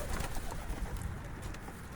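Soft pigeon cooing in a steady murmur, several birds close by at a pigeon market in Zgierz, Poland, with a low rumbling background throughout and no talking.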